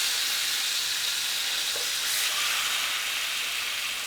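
Seared tuna pieces sizzle and hiss steadily in a hot pan, a bright, dense frying crackle that holds at a constant loud level with a slight swell midway, no voices present.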